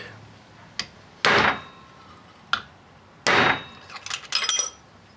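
A hammer strikes a 1:10 scale RC dually truck frame rail: a few sharp, separate whacks, then a quick cluster of lighter taps, close and clear.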